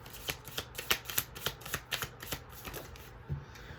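Tarot cards being shuffled by hand, a quick run of crisp riffling flicks in a steady rhythm, close and clear with no talking.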